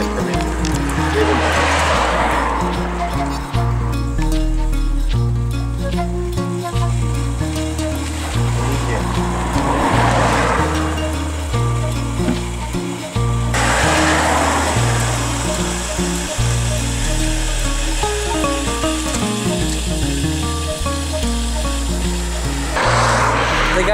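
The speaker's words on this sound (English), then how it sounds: "You could hear the water going through the valve while it was open slightly." Water rushes loudly through a partly open valve on a live water main pipeline, a steady hissing roar that surges in waves over a low mechanical hum.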